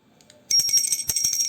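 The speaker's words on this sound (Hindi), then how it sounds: "तो घंटी बजाकर करेंगे आरती।" A handheld puja bell rings for aarti, a bright sustained metallic chime that starts abruptly after a brief soft tap and keeps clanging rapidly and loudly.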